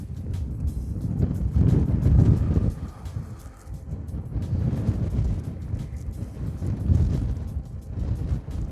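Gusty wind on an open golf course buffets the microphone in rolling, low rumbling surges that rise and fall over several seconds. No other sound stands out.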